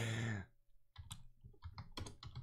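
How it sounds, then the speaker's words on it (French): Keys clicking in quick irregular bursts on a computer keyboard, close and moderately loud, following a brief stretch of talk at the start. "si vous attendez le clavier, ben faites-vous-en pas"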